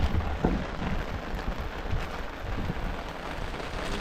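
Steady rain pouring down, a dense continuous patter with a low rumble underneath, filling the whole stretch without pause.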